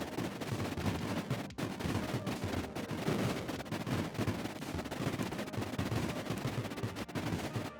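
Missiles firing in the Creeper World IXE strategy game, a dense, continuous barrage of rapid crackling blasts that runs loud and steady throughout, with no talk.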